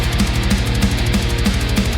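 A metal kick drum boosted around 10 kHz pounds in a rapid, steady double-bass pattern, each hit topped with a bright, clicky attack over the low thump, loud and with no other sound.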